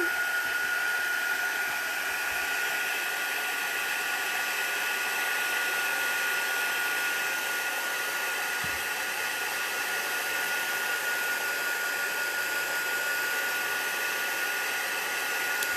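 A hair dryer heat tool blows steadily and loudly to dry Versafine ink stamped onto washi tape, a constant close whoosh with a faint tonal whine that never pauses.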